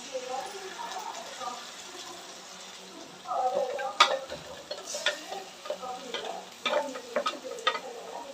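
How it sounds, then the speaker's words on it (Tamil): Tomato paste and onions sautéing in a pan for chicken masala gravy, with a steady soft sizzle and scattered scraping stir strokes and light utensil clinks against the pan. "தக்காளி நல்லா வதங்கட்டும்"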